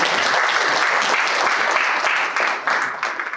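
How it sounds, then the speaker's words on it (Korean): Applause welcomes a guest at a commemorative ceremony, a dense, steady wash of many hands clapping together that stays loud throughout and thins slightly toward the end. "박수로 맞이해주시면"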